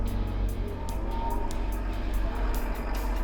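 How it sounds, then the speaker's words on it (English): JCB Hydradig wheeled excavator swinging its cab around, a loud, steady diesel engine drone close by with faint rhythmic ticking over the top. "instead of turning 180 degrees, I'm just going to swing the cab around"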